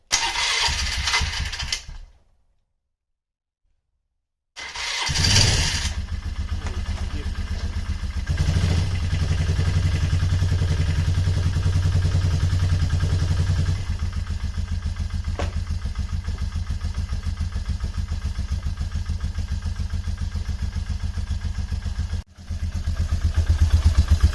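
A Polaris Trailblazer ATV bought as a non-runner is cranked and fires up, then settles into a steady mid-pitched idle with a brief rev, running close and continuous after a short silent gap near the start.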